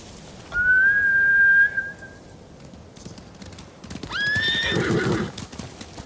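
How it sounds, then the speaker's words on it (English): Samurai horses in the video game Ghost of Tsushima let out two loud, shrill whinnies with hoofbeats underneath, one near the start and a second rougher one after a pause, over quiet ambience. "Bastards scared off the horses."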